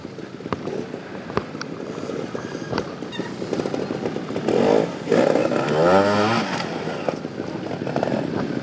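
Two-stroke motorcycles racing on a course, a continuous rasping engine drone with a nearer bike's revs rising and falling in the middle, over steady background noise.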